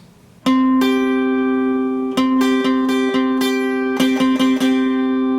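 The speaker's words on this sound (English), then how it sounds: "a perfect fifth sounds like this." Two sustained pitched tones sounding together a fifth apart, struck repeatedly in a steady sequence of clean, ringing notes with no voices.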